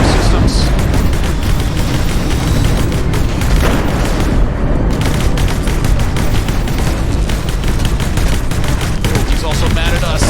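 Loud, dense barrage of missile explosions and booming impacts in the space combat game Infinity: Battlescape, continuous and overlapping throughout with no pauses.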